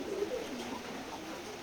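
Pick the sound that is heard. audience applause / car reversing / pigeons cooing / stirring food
pigeons cooing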